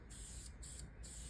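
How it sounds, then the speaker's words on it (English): Leather colorant sprayed evenly onto a car seat gives a steady close hiss, broken by two brief pauses between passes. "You'll notice I'm getting a very nice, even spray."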